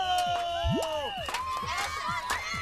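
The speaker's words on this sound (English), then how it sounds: "Green team cheering her on, trying to give her energy because they know it's a timed event" A kids' camp team cheers and shouts for a competitor in a timed game, with excited children's voices and whistling tones layered in a busy, continuous crowd din.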